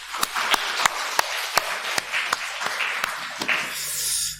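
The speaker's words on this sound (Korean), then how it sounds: "박수 한번 칩시다" Church congregation clapping together in sparse, fairly regular claps, about a dozen sharp hits spread over four seconds, moderately close, with no talk over them.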